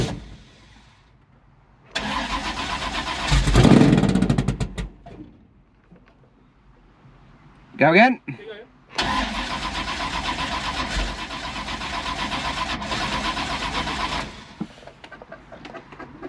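A blown HJ Holden V8 running on methanol cranks over in long bursts, catching briefly with a rough sputter between attempts, the starter whirring loud and close while a voice briefly speaks.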